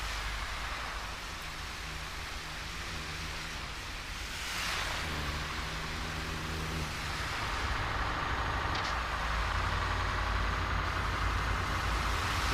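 A heavy haulage truck carrying a 58 m oversized wind turbine blade on a foggy night run, its engine a steady, loud low rumble with road and wind noise, continuous throughout.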